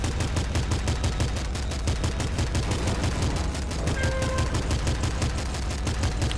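Rapid, relentless bullet fire in the top-down shooter Nuclear Throne, a dense stream of evenly spaced, punchy shots rattling on without pause, with brief synthetic tones briefly layered over the barrage.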